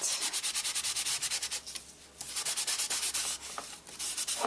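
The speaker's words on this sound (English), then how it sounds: "I'm just going to get my little cloth here and rub it." A small cloth rubs quickly back and forth over a handmade card to remove excess ink, making rhythmic scratchy strokes that are close and distinct, with a brief pause midway.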